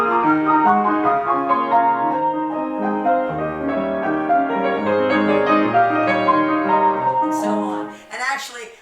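Solo piano playing a lyrical Chopin theme, a flowing melody over sustained chords, close and clear, ending abruptly with a brief noisy rustle.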